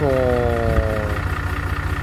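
A Webasto diesel heater running beside an idling engine, a steady low hum with falling whine tones early on, while a person talks over it.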